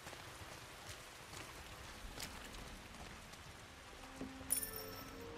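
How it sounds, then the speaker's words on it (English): Steady rain falls on surfaces in the game The Last of Us: Left Behind, a soft continuous hiss of drops with a faint brief clink near the end. "It's been raining like this for the past 2 weeks."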